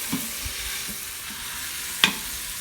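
Sliced onion sizzles in a hot Instant Pot after the pot roast meat comes out, a steady hiss broken by soft stirring scrapes and one sharp clatter near the end, with no talking.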